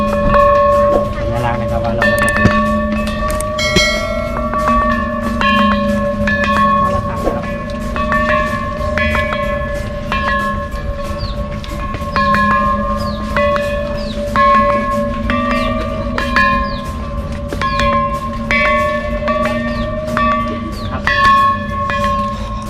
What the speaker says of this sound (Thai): ก็จะมีระฆังให้เคาะนะ